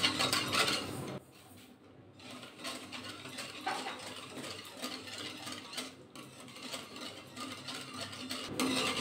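Powdered milk and sugar stirred together in a pan over a low gas flame, a close, steady scraping and clinking of the utensil against the metal that runs continuously with short pauses.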